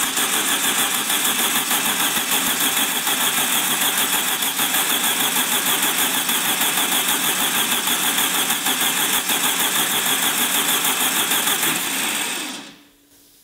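Air-cooled VW Beetle engine, freshly reassembled, cranking over steadily on the starter as oil pressure builds, a loud, even, buzzing mechanical whir that runs without a break before cutting off abruptly near the end.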